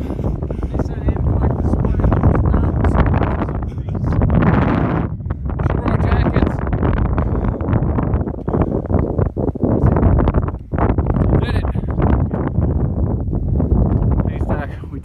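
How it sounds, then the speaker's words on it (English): Strong, steady wind on a mountain summit roars and buffets the microphone throughout, gusting without letup. "Little windy up here."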